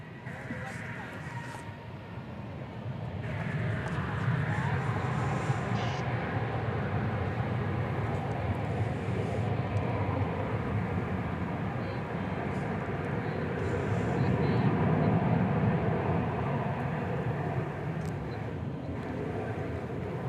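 At DFW Airport, an Airbus A380 airliner on the runway gives a broad, rumbling engine roar that rises after a few seconds and holds, swelling again later, with a voice talking over it.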